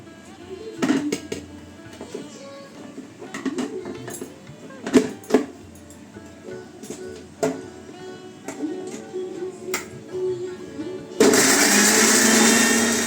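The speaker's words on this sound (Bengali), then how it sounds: "ভাত নামিয়ে এই যে এখানে মিক্সিতে পেস্ট করে নিচ্ছি" Cooked rice is first handled with scattered clinks and clatter of steel utensils under a voice, then a mixer grinder kicks in loudly near the end and runs steadily as it pastes the rice.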